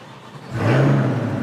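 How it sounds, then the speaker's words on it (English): A 2021 Chevrolet Corvette C8 V8 starts with a low engine note that swells into a loud, close, sustained rumble. "I'm gonna crank it up real quick"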